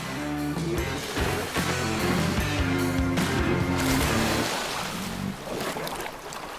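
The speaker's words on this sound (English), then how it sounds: "This big male bear resorts to the bulldozer technique. He pushes the water in front of him to trap the fish." A big male bear wading through Alaskan river water, pushing it ahead of him to trap salmon: continuous splashing and surging water, loud and close, with a windy rush and no voices.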